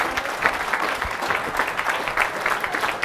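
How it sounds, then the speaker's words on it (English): Audience applause welcoming a guest at a startup fireside chat event, steady clapping from a room of people, moderately loud, with scattered sharper individual claps, no talk over it. "Give him a big round of applause."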